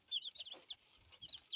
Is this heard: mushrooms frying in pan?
no